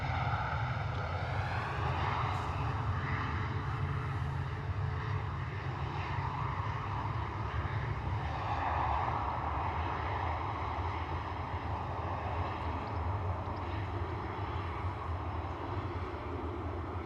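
A TCS World Travel Airbus A321neo at London Stansted Airport sends out a continuous, broad jet engine roar that holds steady and fairly loud for the whole stretch, with no talk.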